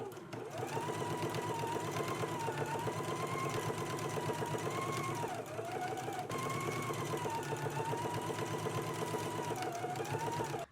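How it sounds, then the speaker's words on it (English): A sewing machine stitches fabric in a steady, continuous run for the full length, with one short pause and restart midway, while sewing a McCall's M8658 garment. "Let's go ahead and stitch it in place now"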